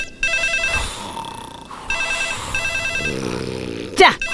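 A telephone rings in a Telugu film scene, repeated bursts of electronic trilling bell tones, loud and close, followed by a low rumbling sound and a sharp vocal noise at the end.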